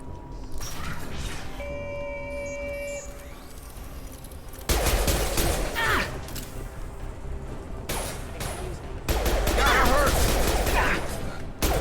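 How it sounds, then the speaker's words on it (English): Gunfire from a firefight in the video game Mass Effect 2 crackles in bursts of rapid shots with crashing impacts, loud and close, following a quieter stretch with tonal electronic game sounds. "Hearing a lot of gunfire."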